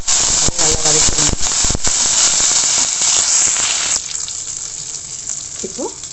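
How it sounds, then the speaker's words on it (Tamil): Shallots and curry leaves sauté in a pan for kara kuzhambu, a loud dense sizzle with stirring clatter at first, then the frying settles to a softer hiss. "சின்ன வெங்காயம் கருவேப்பிலையும் சேர்த்து போட்டுக்கோங்க. நல்லா வதக்கிடுங்க."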